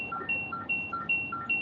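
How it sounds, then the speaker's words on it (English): A car's seatbelt warning chime repeats in a quick, regular two-tone pattern of bright, even beeps, close and alone with no talk over it. "Sorry about the beep."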